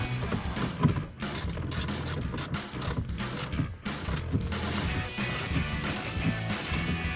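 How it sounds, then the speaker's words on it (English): Socket wrench ratcheting while tightening bolts on an under-seat lock box in a 2016-2023 Toyota Tacoma, dense continuous clicking with scraping and clatter, close and fairly loud throughout. "let's tighten them up with the socket wrench"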